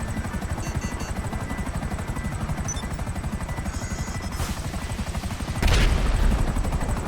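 Rapid, continuous gunfire in the video game GTA Smuggler's Run hammers steadily throughout, swelling into a louder, heavier burst near the end.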